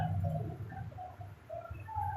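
Birds at dawn, pigeons and doves among them, calling in short, repeated cooing phrases with scattered chirps, moderately close and steady with no talk over them.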